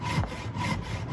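Scrap wood for coasters is sawn by hand in steady back-and-forth strokes, a close rasping rhythm of about two strokes per second.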